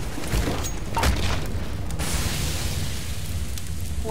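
Grenade exploding in a ten-player competitive shooter match, a single dull low boom near the start that fades into a lingering rumble, moderately loud and close with no talking.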